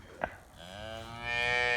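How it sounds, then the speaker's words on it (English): A calf on a farm pasture gives a single long, drawn-out moo that swells louder toward the end, close and clear, after a brief knock at the start. "that's the calf"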